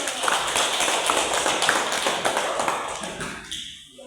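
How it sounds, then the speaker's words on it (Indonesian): Students in a classroom clap together after a group presentation on cooperation at school, a brisk, dense patter of hand claps that runs steadily before thinning out and fading near the end. "Oke, tepuk tangan dulu."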